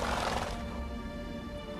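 A horse neighs in The Witcher 3, a loud whinny at the start that fades into a steady, dense game backdrop with no talking.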